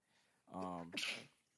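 A single sharp human sneeze, a quick voiced burst followed by a hissing exhale, fairly close and quiet, in a calm conversational setting.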